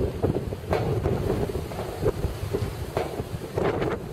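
Strong wind buffets the microphone outdoors in a park, producing steady low rumbling gusts with no speech.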